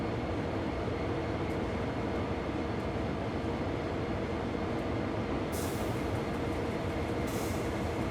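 BNSF SD40-2 diesel locomotive in Train Sim World 3, rolling through a small rail yard on the Hesperia to Barstow run: a steady, loud engine drone and rail rumble throughout, with brief hiss bursts near the end.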